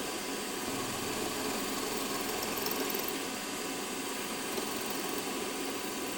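A Stuart Models S50 model engine runs at about 1300 RPM, giving a steady, even mechanical hum and faint rhythmic vibration throughout, fairly quiet, with no talk.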